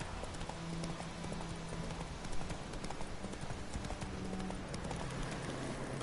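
Roach the horse's hooves clip-clop at a steady galloping rhythm in The Witcher video game, layered with a constant game soundscape and a brief snort partway through.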